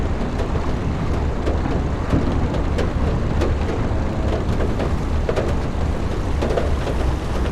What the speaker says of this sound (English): With the thunder and the waves and the lightning and whatnot.